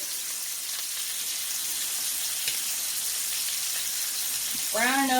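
Oxtail browns in a frying pan with a steady, close sizzle and crackle like light rain on a surface, and a voice starts talking right at the end.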